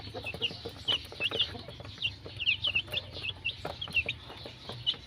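Young chicks eating rice treats, with repeated high peeping chirps scattered over a soft low background, fairly close and moderately quiet, no speech.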